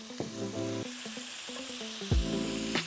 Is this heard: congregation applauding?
no